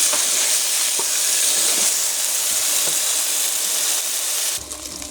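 A curry of potato, eggplant and hilsa fish sizzles loudly in the pan while being stirred, a steady close hiss with a few soft scrapes that drops away abruptly near the end.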